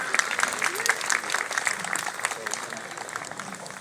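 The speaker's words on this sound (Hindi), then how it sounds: "तालियों से स्वागत करें।" Audience at a community association's annual celebration clapping in welcome, a lively, continuous burst of applause that slowly eases off, with faint voices beneath.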